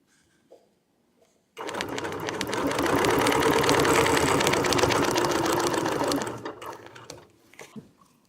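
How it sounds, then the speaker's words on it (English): A quilting sewing machine stitching with a ruler foot, starting abruptly and running in a loud, steady rapid hum for several seconds before slowing and stopping. "Took a couple of stitches because I wasn't exactly on that corner"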